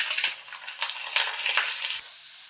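Dried red chillies dropped into hot oil for a sour raw-mango pickle, a bright crackling sizzle with small popping bursts, close and steady, fading abruptly at the end.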